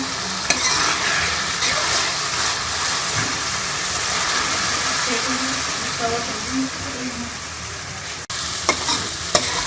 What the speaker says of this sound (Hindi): तेज़ आंच करके हम जो है इसको भून लेंगे